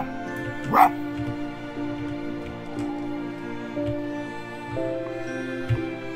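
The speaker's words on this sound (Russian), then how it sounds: "Не достает такой гавк?" A fox character in Spirit of the North gives a short, sharp yip-like bark over sustained game music, followed by fainter thuds.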